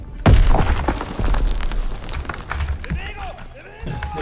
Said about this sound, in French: Grenade envoyée!